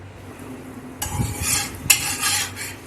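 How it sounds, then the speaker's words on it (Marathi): A poli flatbread roasts on a hot tava griddle greased with a little oil. A steady sizzle starts about a third of the way in and holds to the end, with one sharp tick partway through. No one speaks. "आणि आपण पोळी त्या छान खमंग भाजून घेऊया."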